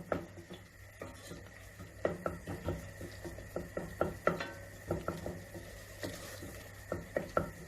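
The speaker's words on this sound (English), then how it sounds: "I'm just giving that a good mix" Vegetables, tomatoes, chili powder and turmeric are stirred in a cooking pan, giving a steady run of soft scraping and irregular light taps of a spoon against the pan, close and fairly quiet, with no talking.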